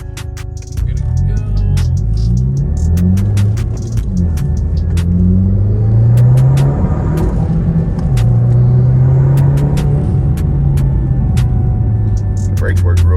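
Close in-cabin roar of a 300 hp Audi TT 225 with a custom exhaust, engine note climbing through gears in repeated rising sweeps, loud and continuous.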